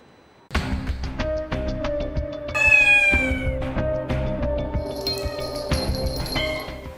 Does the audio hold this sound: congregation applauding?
no